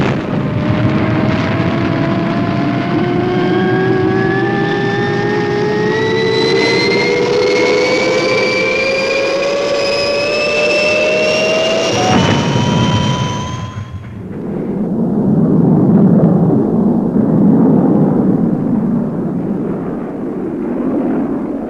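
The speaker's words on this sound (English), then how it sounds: "All clear for liftoff." The Fireball XL5 spacecraft engines lift off with a loud whine that climbs in pitch for several seconds, then cuts to a deep, rumbling roar.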